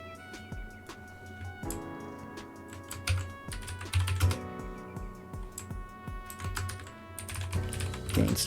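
Fingers tap out notes on a computer keyboard in quick, irregular bursts of clicks, close and clear, with short pauses between runs of keystrokes over a faint background of game music.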